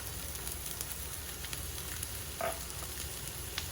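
Garlic cloves frying in a skillet for lasagna give a steady, quiet sizzle throughout, with a brief louder crackle partway through and no talking.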